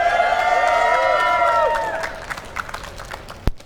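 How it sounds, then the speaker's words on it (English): A crowd at a Magic: The Gathering Pro Tour watch party in Barcelona shouts and cheers, with several raised voices overlapping in loud whoops that fade over a few seconds into scattered clapping and a single sharp clap. "I want to see some shouting in here, our crowd."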